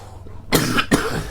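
Two quick, harsh coughs close to the microphone, one right after the other, following a brief quiet moment.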